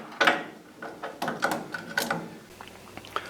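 A hand ratchet clicks in short irregular bursts while loosening the top bolts on a car's motor mount bracket, close and fairly loud with brief pauses between pulls.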